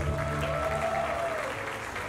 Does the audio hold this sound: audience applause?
yes